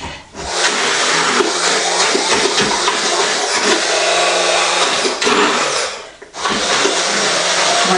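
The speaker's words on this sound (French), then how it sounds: "Je vais maintenant écraser tout ça au mixeur plongeur." An immersion blender purees courgette soup in a pot, a loud, steady whir that runs for several seconds, cuts out briefly near the end, then starts again, with no talking over it.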